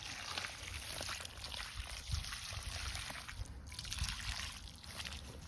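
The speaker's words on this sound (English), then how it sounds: "So we'll just water this nice." Water poured from a container onto the soil around a newly planted fruit tree, a steady close trickle and splash running continuously for several seconds outdoors.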